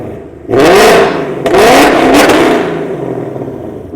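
A 2024 Ford Mustang with long tube headers, parked in a parking garage, is revved to 5,000 RPM: two loud, raspy engine bursts close by, each swelling and then fading away with echo.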